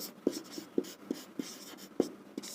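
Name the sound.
writing on board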